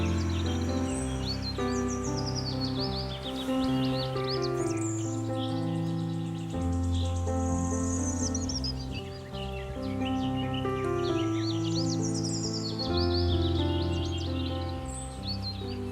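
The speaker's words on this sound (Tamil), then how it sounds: "சிட்டுக்குருவி." A house sparrow chirps in quick bright bursts over background music, the chirps repeating throughout and standing out clearly above the tune.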